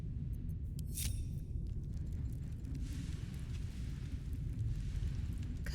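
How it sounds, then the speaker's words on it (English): A deep, sustained rumbling explosion in Baldur's Gate 3, a low roar that fills the clip from start to end with a brief sharper burst near the beginning and steady shuddering rumble throughout, no talk over it. "You hear an explosion, the earth shuddering beneath your feet in response."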